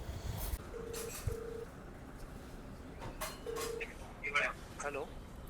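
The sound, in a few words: telephone dialing tones while placing a call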